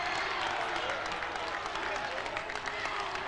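A partisan home crowd at a 1997 high school district semifinal basketball game between Pioneer and Saline reacts to a blocking foul call, producing a distant, muffled roar with scattered clapping.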